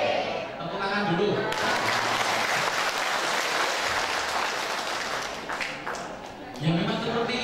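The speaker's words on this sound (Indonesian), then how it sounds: "Tepuk tangan dulu." Audience applause fills a training hall at a PLPG teacher certification session, a dense, sustained wash of many clapping hands that holds steady for several seconds with voices mixed in underneath.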